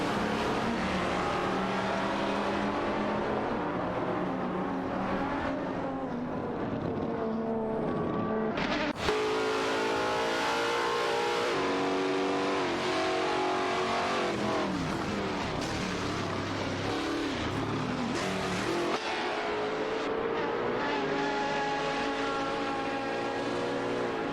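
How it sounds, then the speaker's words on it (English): Race cars in a video game, including Ferraris such as the 575 GTC and Porsche 996 Turbos, roar continuously and loudly, with engines rising and falling in pitch through gear changes as the pack races close together. "There's a tight tussle between Greningeb and Maya in the Ferrari and Wayne 94, and Super Lacroix in the T for Speed 12 GTS for that 30th spot"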